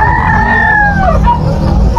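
A rooster at the Malabon pet market lets out one loud, close crow that rises, holds and tapers off. Steady low market and crowd noise runs underneath.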